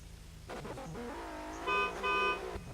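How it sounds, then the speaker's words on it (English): A drift car idles and revs near the line before a qualifying run, then its horn honks twice, each a short, bright, steady toot over the rumbling engine, heard from nearby without commentary. "All right, there's his horn."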